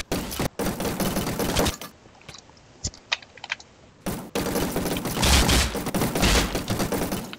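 Loud rapid bursts of gunfire from new guns in a Minecraft mod crackle in fast strings, with a break of scattered single shots between the dense volleys.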